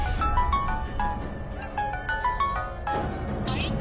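A phone rings during a call in a movie scene, giving a repeated electronic ringtone melody of short tonal beeps in rhythmic bursts over low background noise.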